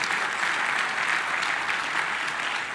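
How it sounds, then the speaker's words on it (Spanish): A church congregation gives a strong, sustained round of applause: dense, even clapping from a large group, moderately distant, with no talk over it. "Démosle un fuerte aplauso al Señor."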